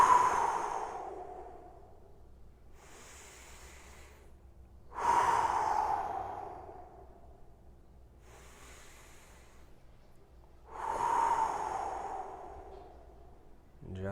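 Slow, deep breaths during a 90-90 hip stretch, three long audible exhales spaced several seconds apart with quieter inhales between, close and unaccompanied by talk.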